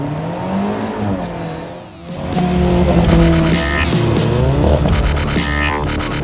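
A rear-wheel-drive Alfa Romeo 4C launches under launch control for a 0-100 km/h run: a loud, close engine drops briefly, then surges with rising revs and a shift, roaring steadily with no talk.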